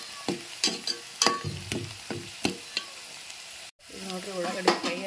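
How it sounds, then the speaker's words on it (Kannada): Onions frying in a pan, with repeated sharp scraping stir strokes over a soft sizzle, a brief cut to silence partway, then a steadier sizzle with more stirring. "ಇವಾಗ ಈಗ ಉಳ್ಳಾಗಡ್ಡಿ ಚಂದತ್ನಾಗಿ ಫ್ರೈ ಆಗುತ್ತೆ."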